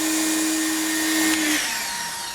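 Greenworks electric pressure washer switching off: a steady motor whine holds, then drops away abruptly as the unit cuts out, leaving a fading hum and rattle.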